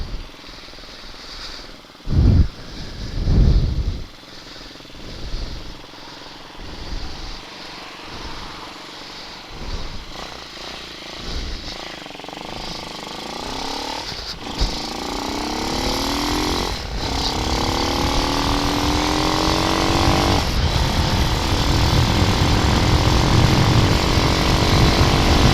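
A Honda Hawk 250 motorcycle engine with a rough carburetor dead spot revs in short blips, then holds a loud, steady rising drone as the bike accelerates, heard up close.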